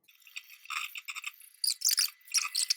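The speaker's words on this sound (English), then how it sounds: "Now you need to whisk." Cocoa being whisked into a chocolate slice mixture in a bowl, with rapid scratchy, rattling strokes that come in short bursts and grow louder toward the end, close up, with no talking.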